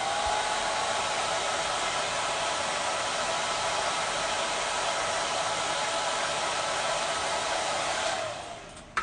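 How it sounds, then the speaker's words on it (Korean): A hair dryer blows steadily and loudly while hair is being brushed and styled in a salon, a continuous airy roar that holds for about eight seconds before dropping away with a brief clunk at the end. "다시 드라이기는 수직으로 들어가서 바람을 줄게요"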